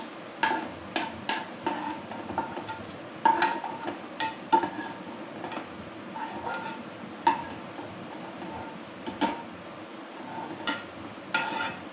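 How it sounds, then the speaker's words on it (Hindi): Cashews roast in a pan for panchmeva prasad while a spoon stirs them, giving repeated close scraping clacks over a soft, steady sizzle. "काजू डाल देंगे, बस ज्यादा नहीं भूनने।"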